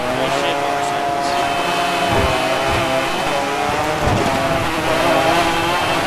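A motorcycle engine races at high revs in Motorstorm Pacific Rift, a loud, steady buzzing whine with shifting pitch that runs unbroken throughout, with other vehicle noise and a voice talking over it.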